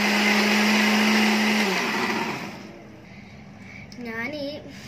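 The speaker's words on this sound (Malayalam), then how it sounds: "എന്നിട്ട് ഞാൻ മിക്സിയിൽ എടുത്തിട്ടൊന്ന് അടിച്ചെടുക്കുകയാണ്." A kitchen mixer grinder whirs loudly while blending avocado pulp for pancake batter, a steady motor drone that cuts off after about two seconds, followed by a person talking over quiet room sound.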